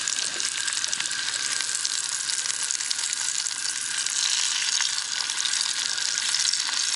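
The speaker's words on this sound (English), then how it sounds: "Frying them in butter." A steady, close sizzle of hot dogs frying in butter in a pan on a camping stove by a river hisses without pause, bright and crackling throughout.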